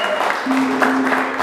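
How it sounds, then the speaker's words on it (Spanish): An audience at a mariachi birthday party claps in a brief burst of applause, with a sustained musical tone ringing over the clapping. "Y un aplauso bien fuerte, bien bonito."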